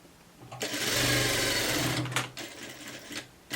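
A sewing machine stitches a blouse collar in one steady run of about a second and a half, followed by a few short bursts of stitching, close and loud with no talk.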